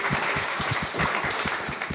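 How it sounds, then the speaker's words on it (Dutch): Audience applause at a public discussion event on police diversity, a steady dense patter of many hands clapping, fairly loud and continuous throughout. "Geef er een applaus"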